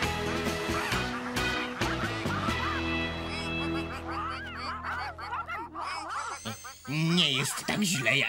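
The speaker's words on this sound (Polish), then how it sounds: "zdaje się, że kaczki nie są zadowolone" Cartoon ducks quack and honk repeatedly at a pond, a busy cluster of calls mixed with animated music and voices talking over them.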